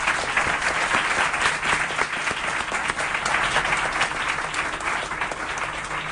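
Sustained applause from a radio show audience, steady dense clapping from start to finish with no voices over it.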